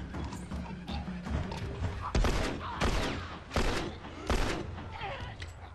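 Gunfire from The Last of Us video game: a series of loud, sharp shots fired a few at a time over several seconds, mixed with game noise and faint background talk.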